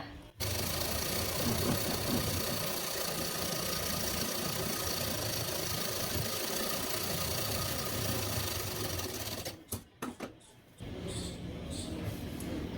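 A sewing machine runs steadily while stitching the edge of a Bombay cut blouse, a continuous mechanical whir that stops briefly near the end with a few short stutters before resuming.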